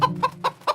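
A chicken clucks close by, four short sharp clucks spaced evenly over a low background hum.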